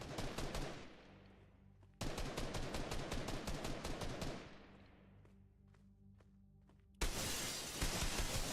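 Pistol gunfire in Fortnite UEFN, loud rapid bursts of sharp shots in quick succession, pausing into a quieter ringing tail before another dense burst of firing, with no voices.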